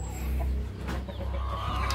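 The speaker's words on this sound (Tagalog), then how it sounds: "Tapos ito, si Max at yung kanyang anak, yung padalawang katsin." A hen with her chicks clucks softly at close range, with a few short low clucks and faint chirps over a quiet farmyard background.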